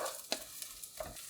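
Sliced onions frying in sesame oil in a pan, a soft sizzle with a few light utensil taps and stirring scrapes over about a second, no voices.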